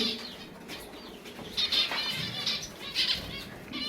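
Pigeon wings flap in a few quick bursts, close and fairly soft, with faint bird sounds in the background.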